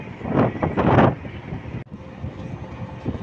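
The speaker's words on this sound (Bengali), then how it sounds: "আস্তে আস্তে এখন লঞ্চের ইঞ্জিনের গতি বাড়ানো হচ্ছে।" The engine of the Captain Launch, a passenger launch travelling from Dhaka to Lalmohan, rumbles low and close as it speeds up, surging loudly at first before settling into a steadier drone.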